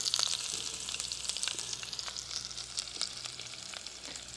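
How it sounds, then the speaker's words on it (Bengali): Onions hit hot oil with cumin and a pinch of sugar in a home kitchen, making a close, continuous crackling sizzle with fine spattering pops throughout. "পেঁয়াজ দিচ্ছি"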